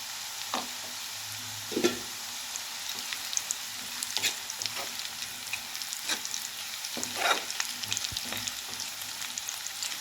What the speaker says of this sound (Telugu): అలా వేగిన తర్వాత ఇందులోని ఎండ్రోలు కూడా వేసుకుని కలుపుకోవాలండి